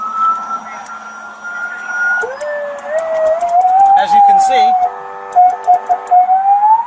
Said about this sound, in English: it has a functioning siren to go with the lights, alternating sirens